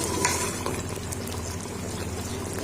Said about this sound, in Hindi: अब हमने अच्छे से इसकी भुनाई करनी है।